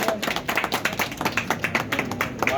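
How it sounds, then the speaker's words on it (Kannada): Steady clapping from a small crowd at an honouring ceremony, brisk and irregular hand claps close by, with faint voices mixed underneath. "ಚಪ್ಪಾಳೆ"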